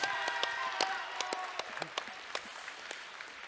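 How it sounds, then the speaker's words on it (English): Steady applause from an audience, dense clapping throughout with a few sharper individual claps standing out. "Round of applause, everybody. Round of applause."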